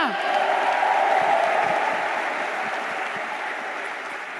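A church congregation claps together during a Tagalog sermon, a steady, moderately loud patter of many hands that continues evenly throughout.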